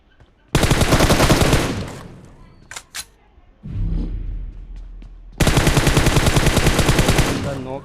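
Bursts of rapid automatic gunfire in a battle royale game, two long loud volleys separated by a few single shots and a dull rumble.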